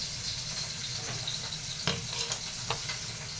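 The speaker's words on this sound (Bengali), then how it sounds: "খিচুড়িটা একটু নাড়া দিয়ে দিলাম, বলক এসে গেছে প্রায়।" A spoon stirs khichuri in a pot on the stove, scraping and knocking against the metal over a soft background sizzle, with a few distinct louder clanks near the end.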